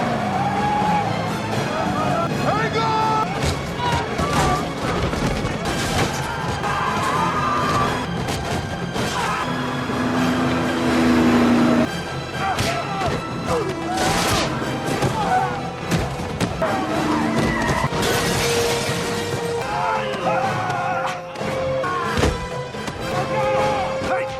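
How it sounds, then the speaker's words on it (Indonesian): A film car chase plays out with a roaring engine revving hard, tires skidding and heavy crashing thuds, all loud and dense over a music score, with shouting voices mixed in. "Rick pun langsung menginjak gasnya."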